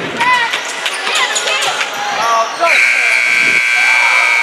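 A basketball game buzzer sounds in a college gym, a loud steady tone cutting through crowd noise and squeaks, heard alongside a commentator's voice.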